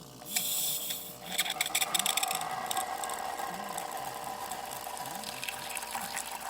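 A DeLonghi espresso machine dispenses hot water after being repaired from an error code, a close, steady hissing gush with mechanical clicking and pump rattle, and no speech.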